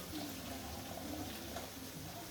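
Hot water pours steadily onto tomato puree for a traditional Corfu beef dish, a soft, continuous liquid splashing heard up close and faint.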